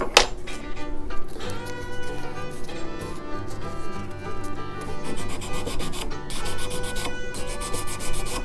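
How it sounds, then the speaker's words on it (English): Sanding a repaired wooden guitar headstock: steady, rhythmic abrasive rubbing strokes, close and continuous, with faint scraping texture and no voices. "Just sand until any indication is gone."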